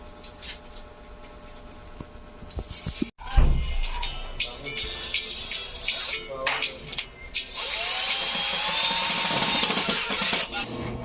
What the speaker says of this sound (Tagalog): So, i-drill natin siya dyan.